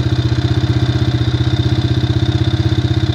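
A 1985 Honda Big Red three-wheeler, cold-started at 20°F, idles close and loud with a fast, even chugging pulse and light mechanical clatter, no voices.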